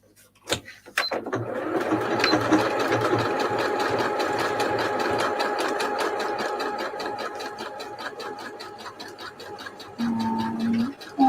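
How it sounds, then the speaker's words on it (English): A sewing machine stitches fabric scrap rolls, running in a steady rapid whirring, needle-tapping rhythm for about ten seconds, with a brief pause and a clunk of handling near the end. "I'm going to spin it this way so that it sews across it as well"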